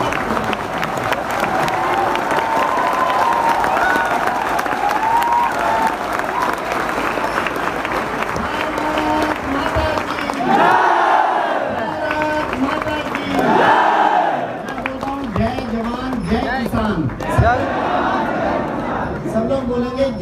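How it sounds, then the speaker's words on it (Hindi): A large audience gives a standing ovation at an entrepreneurship leaders' speech event, with sustained dense applause and crowd cheering that swells and continues throughout, loud and close, with shouts rising over the clapping. "उनके लिए सामान्य ताली से काम नहीं चलेगा। एक बार स्टैंडिंग ओवेशन में"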